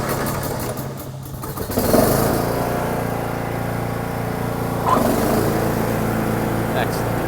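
Cub Cadet XT1 lawn tractor engine idling steadily after a slipped drive belt was repositioned, a close, constant rumbling drone with a slight rise in revs partway through.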